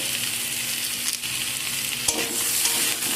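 Potatoes and tomato stirred together in a frying pan, with a steady close sizzle throughout and a sharper scrape of the spatula partway through.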